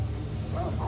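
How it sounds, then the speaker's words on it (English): A dog barking in the video game Sekiro, a single short bark-like yelp up close over a loud constant low game ambience. "He's just barking at me."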